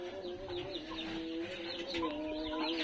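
Chickens on a poultry farm in hot weather, a steady chorus of clucking and calling hens close by, continuous and busy with no talk.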